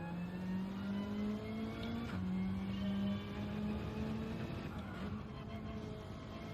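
A race car engine in the video game Gran Turismo 7 drones at steady revs, its pitch climbing slightly and dipping as the car shifts, loud and continuous with no pauses.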